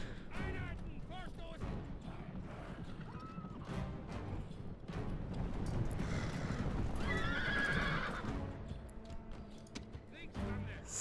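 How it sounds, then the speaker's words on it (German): Cavalry in the video game Rome: Total War charging through enemy units, with loud horse whinnies, galloping hoof clatter and battle clashes amid continuous combat noise. "die Pferde hüpfen über die Einheiten"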